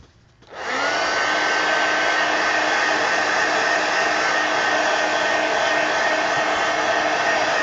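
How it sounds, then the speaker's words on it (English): A heat gun switches on after a brief quiet moment and then blows with a steady, loud, even whoosh and whine as it dries coloring ink on a page. "Heat gun."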